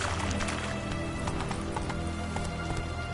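Roach the horse galloping in The Witcher 3, rapid rhythmic hoofbeats pounding close and loud throughout, with a faint whinny mixed in.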